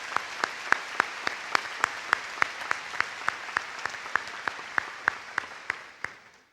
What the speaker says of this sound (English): Let's give another round of applause to those guys.